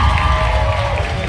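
Comedy club audience at the Improv applauding and cheering, a dense, steady wash of clapping and crowd noise filling the whole moment.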